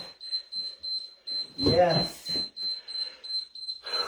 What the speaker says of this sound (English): You hear that lovely sound? You hear all the beeps?